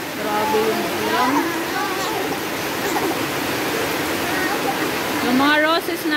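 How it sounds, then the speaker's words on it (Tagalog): Heavy rain pours down steadily in a loud, dense wash, with people talking and calling out over the downpour throughout. "Grabe yung ulan."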